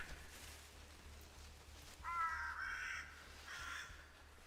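Crows in a dark video game forest caw in two short bursts midway through, moderately close, over a quiet low ambient hum.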